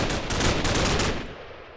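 A sniper rifle in modded Minecraft gives one loud, burst-like gunshot that fades out over about a second.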